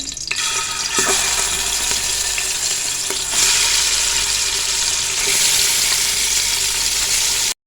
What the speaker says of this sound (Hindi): अब इसको हम करेंगे फ्राई